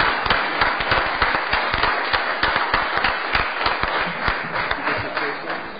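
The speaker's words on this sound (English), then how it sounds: "Let's give Bill one big round of applause." Audience applause for Bill at his retirement during a St. Louis Board of Aldermen meeting, a dense, steady burst of many hands clapping in a hall that holds at full strength throughout.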